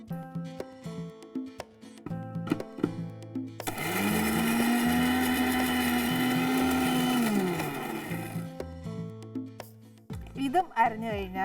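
A mixer grinder whirs loudly for about four seconds as it grinds onion for paneer pasanda, a steady motor hum rising and then easing off, with someone talking before and after.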